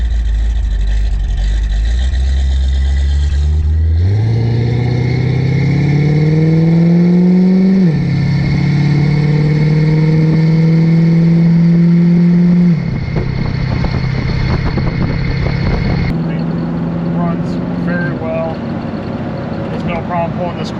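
A 1975 Chevrolet Corvette with a dyno-tuned 350 V8 pulls down the road, its loud engine note climbing through rising revs with distinct shifts, then settling into a steady cruise drone with some road noise.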